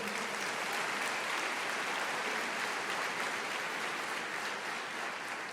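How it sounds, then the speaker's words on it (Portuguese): A church congregation applauds during a sermon, a steady, dense wash of many hands clapping at even loudness throughout, with no voices over it. "Você pode aplaudir o Senhor?"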